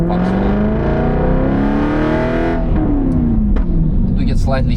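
Track-built Aston Martin Vantage V8 engine revs hard and loud, pitch climbing then dropping through gear changes, heard close up and continuously from inside the car.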